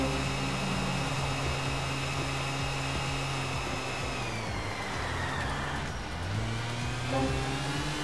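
A fast motorcycle engine in the video game GTA IV holds a steady high droning whine, pitch sliding down and then climbing again, close and continuous with no talk.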